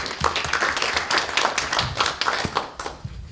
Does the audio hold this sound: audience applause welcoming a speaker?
yes